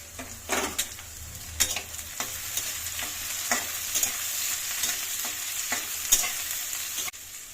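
Onions and a ginger, garlic, tomato and green chilli paste fry in a pan for chicken curry, a steady close sizzle broken by repeated scraping stirs of a utensil against the pan, with no voices.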